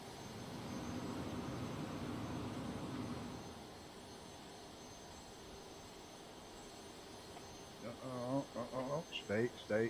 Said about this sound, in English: Let's see what kind of climb rate we can get out of here with full throttle.